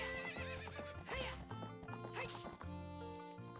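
Epona the horse whinnies loudly in Zelda: Ocarina of Time, over a steady clip-clop of galloping hooves and game music, with no voice heard.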